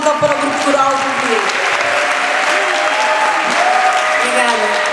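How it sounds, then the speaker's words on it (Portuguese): Steady applause from an audience greeting a choir group at a cantata performance, dense continuous clapping filling the hall with some tonal background and no voices. "uma salva de palmas então para o grupo coral do Rio"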